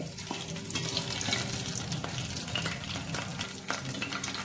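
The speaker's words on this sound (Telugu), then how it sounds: "ఆనియన్స్ వేసుకుందాం. ఎక్కువ వేపాల్సిన అవసరం లేదండి, లైట్గా ఒక్క 5 సెకండ్సే అంతే." Onions tossed into hot oil with spices fry lightly, giving a steady, close, dense sizzle with faint stirring scrapes throughout and no talking.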